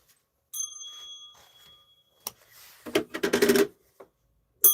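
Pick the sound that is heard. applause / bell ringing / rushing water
bell ringing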